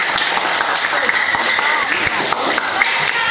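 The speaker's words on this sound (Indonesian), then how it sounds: "Tepuk tangan sekali lagi." Classroom of students claps together in a loud, continuous burst of applause, close and fairly even throughout.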